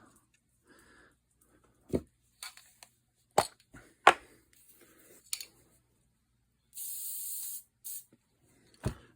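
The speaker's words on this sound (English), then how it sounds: "I spray glue it." Short hissing bursts of spray glue from an aerosol can, several quick puffs and one longer steady spray, with small handling clicks and taps in between.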